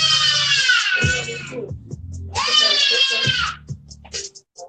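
A baby screams in two long, loud, high-pitched bursts close by, with brief pauses between them and low background noise underneath.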